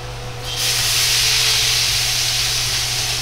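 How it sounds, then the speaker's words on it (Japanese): Loud sizzling hiss of microwaved onions hitting hot oil in a pot over high heat, starting abruptly after a brief moment and holding steady, with a low hum underneath. "玉ねぎの水分を素早く飛ばしていくため、強火にして炒めていきます。"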